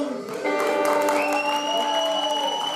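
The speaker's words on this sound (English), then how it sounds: "Give a big round of applause for the guys wearing the masks" A live show crowd applauds steadily, with a dense wash of clapping overlaid by a few sustained whistle-like tones.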